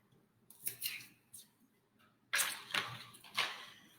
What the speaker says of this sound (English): let me cut off the ends of the green onions here for you